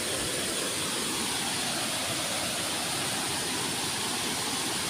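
A waterfall at Ban Tao Ngoi in Thailand pours in a steady, unbroken roar of rushing water, loud and close, with no other sounds standing out.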